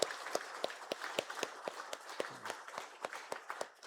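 Congregation clapping during a Sunday worship service at a Korean church, a fairly regular, sparse series of claps at low level.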